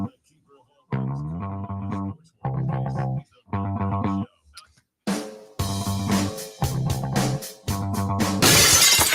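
A glass-shattering sound effect plays on a live sports talk show: a run of loud, separate crashing bursts in a choppy rhythm that build into a dense final smash, each burst dropping quickly to near silence.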